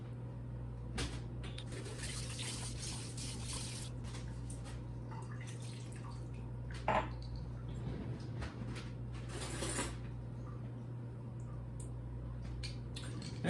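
Soy sauce marinade ingredients mixed together with water in a bowl for Korean BBQ meat, giving soft, continuous wet stirring and sloshing with occasional clinks, steady and close over a low background hum.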